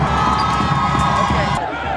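A large crowd of UCLA students cheers and shouts at an early-morning spirit rally in Los Angeles broadcast live on television, a dense, loud, continuous roar of voices with no single voice standing out.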